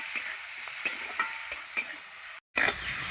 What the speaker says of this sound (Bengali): চিংড়ি মাছটাকে ভালো করে ভেজে নেব।